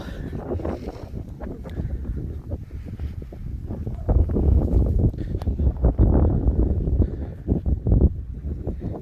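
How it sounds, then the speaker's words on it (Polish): Strong, gusty wind roars through a snowy forest with knee-deep snow, a continuous low rumbling buffeting that swells louder partway through, with no voices. "Nie wiem, czy mnie w ogóle słychać przez te wiatry"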